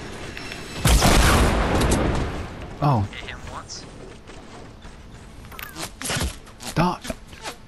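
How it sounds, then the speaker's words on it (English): Bursts of rapid gunfire from other players in Fortnite, a dense loud volley near the start and shorter shots later, with a player talking over the game audio. "They're both shooting at me."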